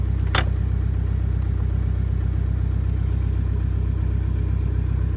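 A Volkswagen 1.9 TDI AHU diesel engine idles with a steady, even rumble and a clattering diesel beat, close and continuous, with a brief metallic jingle near the start.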